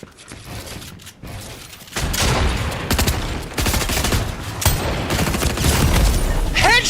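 Video game gunfire rattles out in rapid, loud volleys after a quieter opening, with repeated shots and mechanical clatter continuing to the end and some talk underneath.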